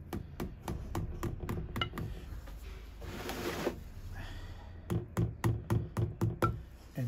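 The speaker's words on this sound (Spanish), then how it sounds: "con el martillito, voy a doblar los alambres para abajo un poco" Small hammer tapping bonsai wires downward during the transplant of a large Chinese elm, rapid bursts of sharp light metallic taps, a pause filled with soft rustling, then another quick run of close taps.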